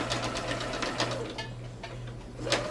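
A sewing machine stitches fabric for a purse, a close, steady, rapid mechanical whir with a fast repeating needle rhythm.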